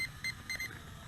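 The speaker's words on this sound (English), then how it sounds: "a bunch of beeps to let you know you are out of headless mode" A few short, high electronic beeps in quick groups from a Sirius S90 drone exiting headless mode, faint over a low background hum.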